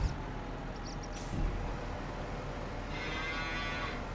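In the video game Farming Simulator 25, cows and calves on a snowy farm moo in a long, low call over steady ambient game noise.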